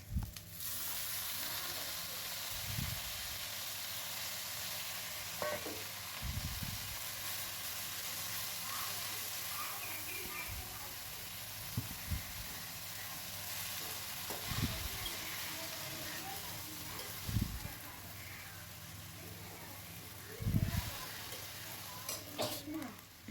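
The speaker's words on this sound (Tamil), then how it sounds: "நல்லா அதை வதக்கி விட்டுக்கிட்டே இருக்கணும்" Onion and ponnanganni spinach sautéed in a pan, a soft continuous sizzle under regular scraping strokes of a spatula against the pan, spaced every few seconds.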